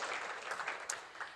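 A conference audience applauds workshop facilitators and speakers, a short, fairly faint burst of scattered clapping heard from a distance.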